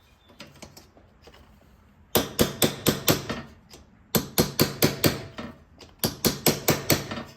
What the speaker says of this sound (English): we can actually move to striking this with a hammer